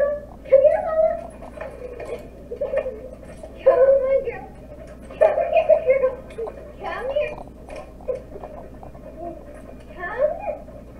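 A dog whimpers and yips in short repeated bursts at a funny animal clip, with soft ticking in the background and a person talking over it.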